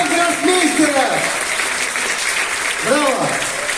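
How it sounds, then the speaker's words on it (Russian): An audience applauds after a percussion trio plays the composition Sandy The Hurricane, with steady clapping running underneath someone speaking loudly over it. "Феликс Смирнов, Кириллов, всем аплодисменты."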